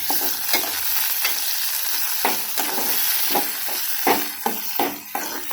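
Drumstick and tomato curry being stirred in a frying pan, a steady sizzle of frying with repeated scraping strokes of the spoon against the pan, close and fairly loud, no voices.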